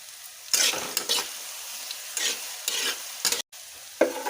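Sabudana khichdi with green chilli, salt and crushed peanuts is stirred in hot oil. Close bursts of sizzling and frying rise with each stir, separated by quieter pauses.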